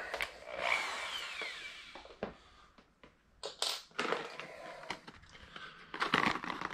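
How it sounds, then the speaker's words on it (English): A drill fitted with a multi-size step bit bores through a plastic salad bowl, giving a steady, fairly quiet grinding and crunching with brief squeals and rough pulses throughout. "kind of a little multi-size drill bit. It has the ability to go through plastics and metals"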